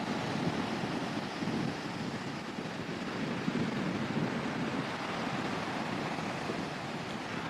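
Surf rolls onto the beach at Starbase, Texas, in a steady, dense wash of breaking waves, with gusting wind buffeting the microphone throughout and no voices.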